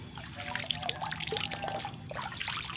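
Water from a catfish pond trickles and pours into a container, a soft continuous splashing and dribbling with a few drip-like plinks, fairly quiet and close.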